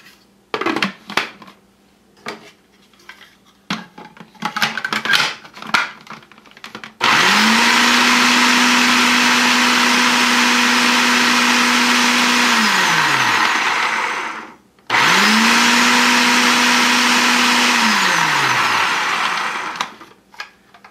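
A blender grinds salsa ingredients, including garlic and lemon juice, in two loud sustained runs with a short pause between them. Clattering and tapping come before the motor starts.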